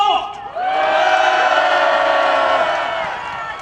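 A large outdoor crowd at a street rally in Yeouido, Seoul, opposing a presidential impeachment, cheers and shouts together in a loud, sustained roar that swells and holds, with voices whooping over the mass.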